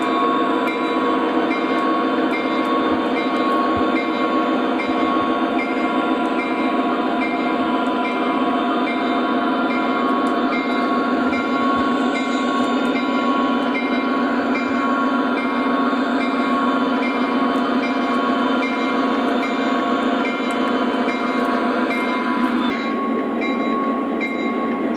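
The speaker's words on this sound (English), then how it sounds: "this SD40 is going to do all the shoving into the sidings" An O gauge model SD40 locomotive shoves hopper cars into sidings on a layout, giving a steady motor whir and rolling hum that runs continuously with small clicks, then drops slightly near the end.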